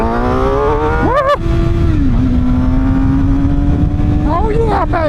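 A Suzuki GSX-R750 inline-four motorcycle engine screams at high revs, with a loud continuous wail that rises in pitch through a quick blip, holds a steady tone, then climbs again near the end.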